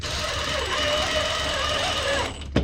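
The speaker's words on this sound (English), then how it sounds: "First, I'm just tacking these in with number 10 screws," A power driver sets number 10 screws to tack pieces onto a wooden boat under restoration. A close, steady motor whine holds for a couple of seconds, then cuts off with a sharp click.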